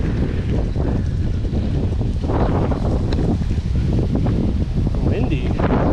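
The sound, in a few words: wind blowing on mountain bike trail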